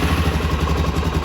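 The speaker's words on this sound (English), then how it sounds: "you can also hear how the factory exhaust sounds" A 2021 Suzuki DRZ400 SM motorcycle idles close by through its factory exhaust, with a loud, steady, lumpy exhaust burble and mechanical clatter.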